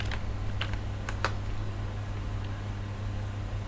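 Light keystrokes on a computer keyboard while entering data in an Excel spreadsheet, a few scattered taps over a steady fan-like hum.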